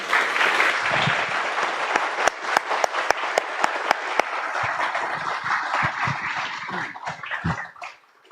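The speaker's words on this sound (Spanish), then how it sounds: "despidámoslas con un aplauso" An audience at an academic lecture event at PUCP claps in sustained applause that holds steady for several seconds, then thins out and fades away at the end.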